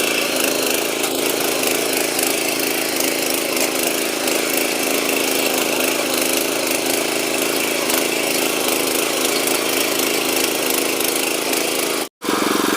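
Power weeder farm machine engine running in second gear, a loud continuous droning idle-like hum that holds steady for several seconds with only a momentary break near the end.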